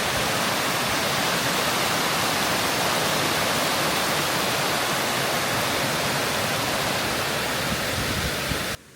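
Glencar Waterfall in Ireland pours in a steady, loud, broadband roar that fills the whole span and then cuts off abruptly at the very end, with no voices.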